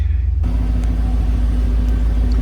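A 1987 Chevrolet IROC with a 5.7-litre fuel-injected V8 idling nearby, a loud, steady low rumble that starts abruptly and holds evenly without revving.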